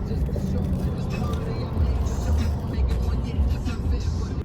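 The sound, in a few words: heavy road traffic near a festival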